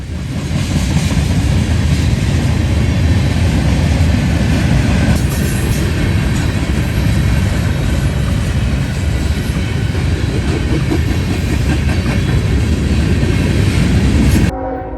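A Norfolk Southern freight train, number 170, passing eastbound through London, Ohio, a loud, close, continuous rumble of wagons with rail clatter and a horn, ending abruptly.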